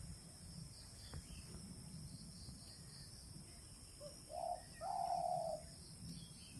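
A bird calls outdoors with a brief chirp followed by a clearer, sustained call near the end, faint against a quiet background.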